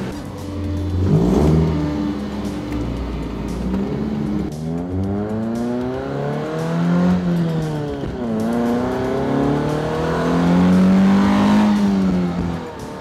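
A modified Toyota Supra sports car engine revs and accelerates through several gear changes, pitch climbing and dropping repeatedly, loud and close as if heard from inside.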